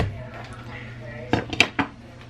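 Metal spoon stirring soup in a pot on the stove gives a few sharp clinks and scrapes against the pot, close by, over a low kitchen hum.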